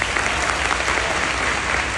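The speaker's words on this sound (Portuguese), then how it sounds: "Quero pedir uma salva de palmas para ele." An audience at a Brazilian criminal law congress breaks into a brief, dense burst of clapping, loud and sustained with no voices over it.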